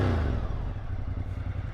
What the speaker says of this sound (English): Sometimes she needs a little extra rev because she's weird after you start her back up. Other times, I just want to hear the sound of my Ducati.